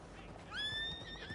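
Horse neighing in the Red Dead Redemption 2 Online video game, a single rising whinny with a shrill, wavering tone near a stable, clear and fairly loud over a soft ambient background.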